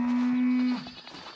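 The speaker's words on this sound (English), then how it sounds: "Did you hear my neighbor's cow?" A neighbor's cow on a homestead gives one loud, sustained call lasting most of a second, steady in pitch, before fading into quiet morning background noise.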